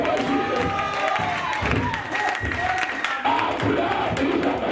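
A church congregation applauds and cheers together through a sermon, a dense, continuous wash of clapping and raised voices mixed with speech throughout.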